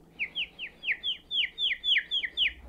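A beatboxer imitates bird chirping by inhaling, with about ten quick, bright, downward-sweeping chirps in a steady rhythm, alone and close.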